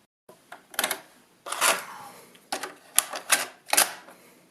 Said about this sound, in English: I'm going to get this into a tape drive